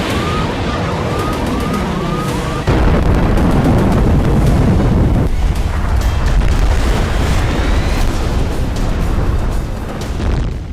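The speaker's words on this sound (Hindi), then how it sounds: "ऐसा भयंकर धमाका" A huge blast in the Gaza war: heavy, loud rumbling booms fill the low end continuously, with a sharp surge partway through, while sirens wail over the din.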